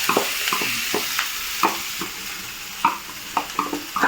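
Ginger, chili and garlic paste fries in a pan with a loud, close hiss, punctuated by repeated spatula scrapes and stirring taps.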